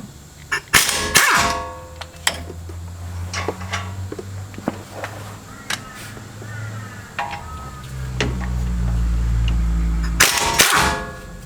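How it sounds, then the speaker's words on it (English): Rattle gun on 17mm bolts of a 4x4 disc brake: sharp, loud impact bursts at the start and end, with scattered clanks and knocks of tools between and a low rumble building late, all close and with no talking. "you want to either use a rattle gun or an air gun to get them off"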